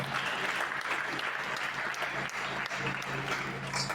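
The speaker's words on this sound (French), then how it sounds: "applaudit encore une fois." A congregation applauds at a Pentecostal church's 26th anniversary celebration, sustained, fairly soft clapping from a crowd with no break.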